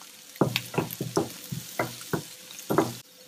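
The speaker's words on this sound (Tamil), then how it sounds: "மிளகாத்தூளையும் போட்டு மிக்ஸ் பண்ண போகிறோம்." Onions with chili powder sizzle in a pan for vendakkai poriyal, with repeated stirring scrapes in a quick irregular rhythm, about seven strokes, close and clear.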